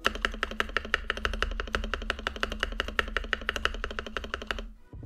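Rapid, steady typing on a Gamakay LK67 mechanical keyboard, crisp clacky keystrokes close up in an even rhythm, stopping just before the end.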